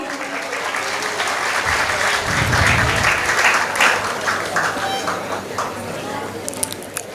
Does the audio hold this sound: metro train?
no